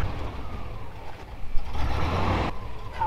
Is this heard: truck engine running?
yes